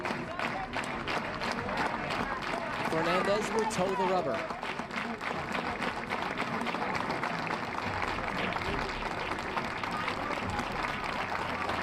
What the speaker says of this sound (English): Here come the claps from the Alumni Field faithful.